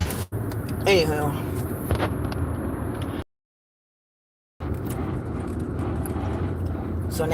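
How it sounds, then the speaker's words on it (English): Plastic trim on the front of a car scrapes while it drives, a continuous gritty rasp under road and engine rumble with a person talking over it, broken by a sudden silent gap before the scraping resumes. "So now that plastic piece in the front, what you hear is scraping."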